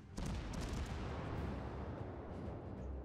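Heavy battleship gun salvo in World of Warships: a sharp boom at the start rolling into a sustained, dense rumble of artillery fire and explosions lasting for seconds, loud and close with no talk.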